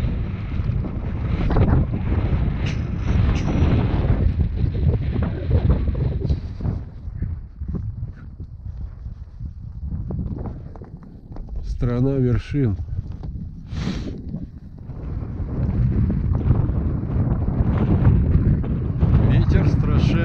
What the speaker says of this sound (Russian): Ветер страшенный, просто боковой идет, но красиво.